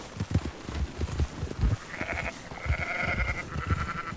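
Sheep in the video game Red Dead Redemption 2 bleat in drawn-out wavering calls over repeated low thudding hoofbeats or footsteps that keep a steady rhythm throughout.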